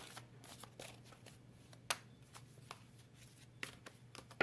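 Tarot cards from a large deck are handled and shuffled, producing faint, soft papery flicks and light taps at an uneven pace over a low background hum.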